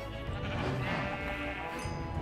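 Sheep in the video game Minecraft bleat in short, wavering calls over a busy game soundscape, fairly close and moderately loud, with no speech.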